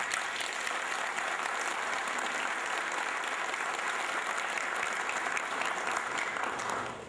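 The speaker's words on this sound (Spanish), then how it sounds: "a merecer un aplauso de los presentes" Sustained applause from the audience fills the room, a dense, continuous crowd clapping at steady strength for several seconds before starting to fade at the very end.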